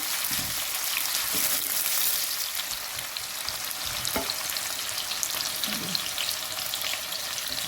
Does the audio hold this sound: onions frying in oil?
yes